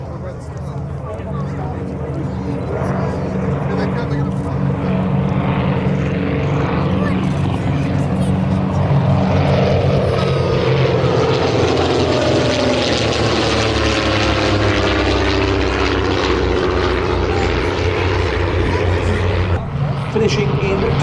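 A de Havilland DH-88 Comet propeller aeroplane flies past at an air display, a loud sustained engine drone that swells and shifts pitch as it passes, with commentary heard over it.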